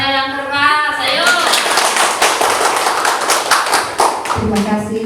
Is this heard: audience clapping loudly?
yes